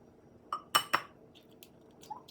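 Eggs cracking against a bowl for chocolate chip muffin batter, two sharp close clinks in quick succession, then faint brief taps, with no talking.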